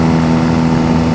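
Exhaust of a Honda Rebel bobber motorcycle while riding, a steady, loud droning rumble with a strong low hum, continuous for the whole moment with no talk over it.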